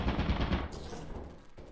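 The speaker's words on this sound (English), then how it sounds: "Run from the turret." Turret gunfire in the modded video game Lethal Company, a loud dense burst of rapid automatic shots that cuts off partway and leaves a noisy hiss trailing behind it.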